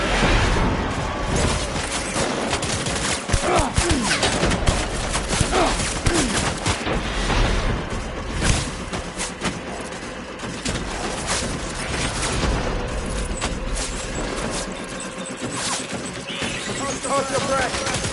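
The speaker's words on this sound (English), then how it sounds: "Taking fire. Open fire." Gunfire in Death Stranding at Edge Knot City: dense, rapid bursts of shots and booming impacts come in quick succession, loud and continuous throughout, with voices calling out over the firefight.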